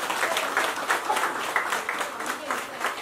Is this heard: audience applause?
yes